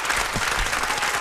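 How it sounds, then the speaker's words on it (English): Loud, close audience applause at a boxing press event, a dense continuous wash of clapping with no gaps. "ladies and gentlemen, keep the applause going"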